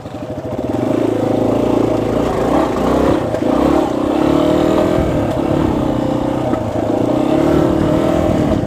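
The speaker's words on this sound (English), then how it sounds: "for someone who wants to come out here and tear up the trails with a cheap dual sport, this is honestly a fantastic bike" A budget Kawasaki KLX250S or Yamaha XT250 dual sport motorcycle engine drones and revs continuously up close while riding over dirt trail whoops and stair steps, with steady engine tone shifting slightly in pitch.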